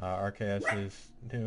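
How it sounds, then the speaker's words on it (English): A dog barks a few times in quick yips while someone talks over it, the barking close and mixed into the speech. "if you hear a bunch of barking"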